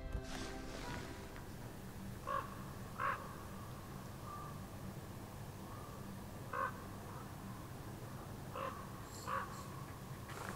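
Ravens caw in short, distant, sparse calls, around six croaks spread over a steady outdoor hush in a November wilderness.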